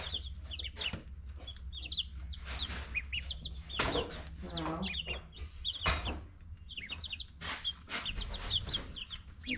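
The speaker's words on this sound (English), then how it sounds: "I gotta separate the ducks and the chickens, I think." Chickens clucking and chirping in a brooder shared with ducks, a busy, continuous chatter of overlapping calls heard up close, with no talking.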